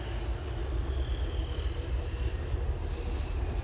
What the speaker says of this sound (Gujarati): ટ્રેન પણ આવી ગઈ